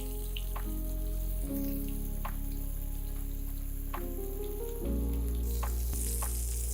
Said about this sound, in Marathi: गरम तेलावरती गोल्डन ब्राऊन रंगावरती फ्राय करून घ्यायचे